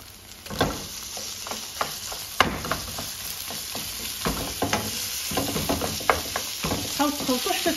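A spoon scrapes and stirs kofta mixture around a pan in a home kitchen, with irregular scraping strokes over a faint steady sizzle and no talking.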